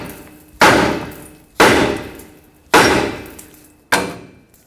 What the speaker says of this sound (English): Now take a hammer and tap the knuckle right here so the tie rod stud can break free.